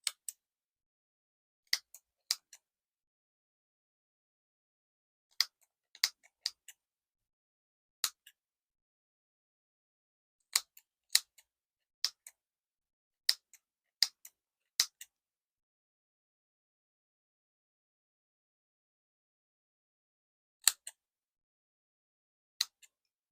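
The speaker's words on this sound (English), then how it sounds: "And then I'm going to go ahead and just cut my little loops." Scissors snipping through yarn loops to form small crochet pom-poms, sharp isolated clicks in short pairs and clusters with long quiet gaps between, close and fairly faint, no talking.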